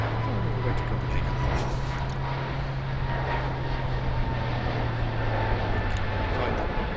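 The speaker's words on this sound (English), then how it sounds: "It's 321, Airbus 321. All the way to Copenhagen." An Airbus A321 at Heathrow gives off a steady, loud broadband jet roar with a constant low engine hum, heard continuously at moderate distance.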